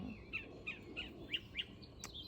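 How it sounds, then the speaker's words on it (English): Garden birds in early May chirp in a quick run of about six short, clear, high notes, fairly faint against a quiet outdoor background. "Happy birds."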